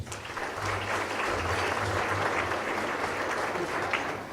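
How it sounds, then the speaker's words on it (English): Audience applause welcoming a presenter onto the stage at a motorsport awards evening, a steady, dense wash of clapping from a large indoor crowd sustained throughout. "Give George a round of applause"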